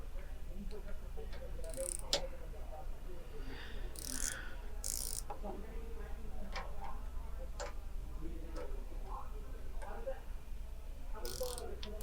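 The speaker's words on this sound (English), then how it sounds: "So with the small ratchet, we are going to loosen these 2 screws." A small ratchet loosening two screws on a multi-needle embroidery machine, faint clicking ticks at irregular intervals under a steady hum, with a person talking throughout.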